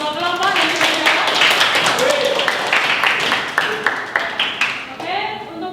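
A classroom of students claps for two student groups, with a burst of scattered hand claps mixed under a teacher's ongoing talk.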